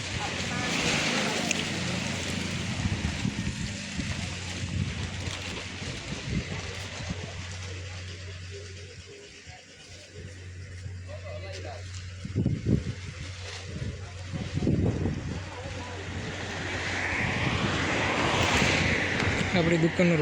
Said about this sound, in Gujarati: વાયરો છે જ બહુ